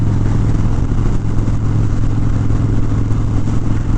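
A Harley-Davidson Dyna Street Bob with a twin cam 103 engine drones steadily while riding, a loud continuous low rumble with wind rush over it and no change in pace.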